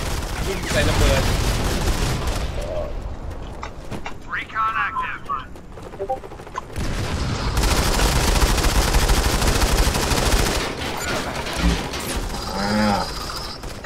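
Dense automatic gunfire and explosions from the Modern Combat 5 first-person shooter game, nearly continuous and loud throughout, with bursts of fire under someone talking excitedly.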